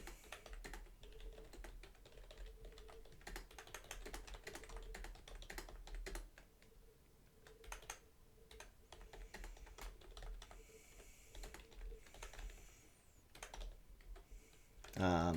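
Rapid clicking of a computer keyboard as someone types in short, irregular bursts, close and fairly quiet, with faint speech in the background.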